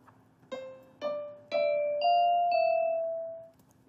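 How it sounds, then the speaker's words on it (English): Bell-like synthesized notes from the Pretty Bell synth in Sonic Pi, five struck tones played one after another about half a second apart, each ringing with bright shimmering overtones, the last ones sustaining and fading together. "So we can play the first set of notes with the piano, and then we can do the Pretty Bell next."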